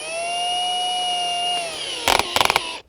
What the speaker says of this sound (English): we're going to go ahead and drill that out to 25 mil